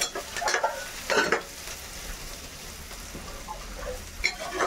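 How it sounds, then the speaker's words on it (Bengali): Onions and green chili frying in a pan in a village kitchen: a steady close sizzle broken by several bursts of stirring, with spatula scraping against the pan and no voices. "পেঁয়াজটা ভাজা ভাজা করে দেবো, খুব বেশি না।"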